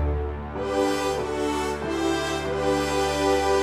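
An orchestral patch in Gig Performer layering strings and brass with timpani, playing a big, full sustained chord with a few swelling accents, loud and continuous with no talking.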